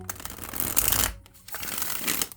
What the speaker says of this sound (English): All right, one more shuffle on this.